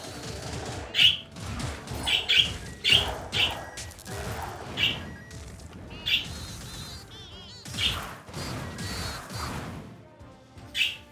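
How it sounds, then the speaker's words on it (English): Repeated bright, high chirps and squawks of excited birds burst out in clusters over a busy, clattering Wizard of Legend game soundscape, with some sharp hits mixed in. "as you can hear, we've got some excited birds."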